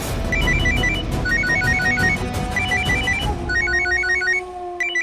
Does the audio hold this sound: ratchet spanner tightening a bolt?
no